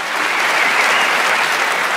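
Steady, dense audience applause fills the whole stretch, loud and continuous with no voices standing out.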